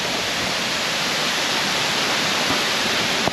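Waterfall on a paradise island, a dense, unbroken roar of falling water heard close and loud, steady throughout and ending abruptly.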